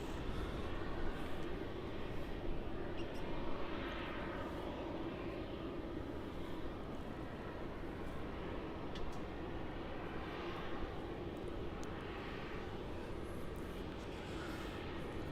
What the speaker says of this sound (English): Looks like that Jetstar A321 off to Brisbane flight JQ506 is going to take the entrance 234 at taxiway Juliet.